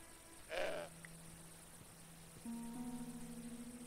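A goat bleats once in the Broken Sword 5: The Serpent's Curse video game, a short nasal cry standing out against a quiet game background with a steady low hum and tonal music entering afterward.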